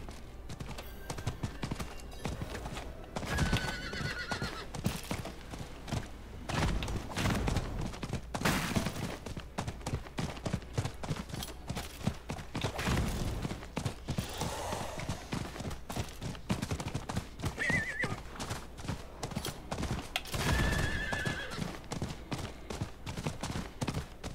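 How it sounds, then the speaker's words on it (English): Hooves clip-clop in a steady, regular gait as a horse is ridden in the video game Diablo 4, with a couple of short whinnying neighs rising above the footfalls near the start and again toward the end. "glad they actually gave us a way to get around up here with a horse"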